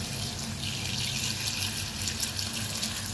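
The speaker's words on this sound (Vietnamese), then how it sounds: "Bây giờ mình sẽ xả nước để cho cái khăn này nó cũng ngấm nước ạ" Water runs steadily from a kitchen tap onto a cloth to soak it, a continuous close hissing splash with no speech over it.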